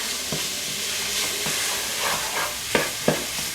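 Homemade chili ingredients cook in a pan on the large back burner of a stove, giving a steady low sizzle and hiss with a few soft stirring scrapes, close and moderately quiet, with no talking.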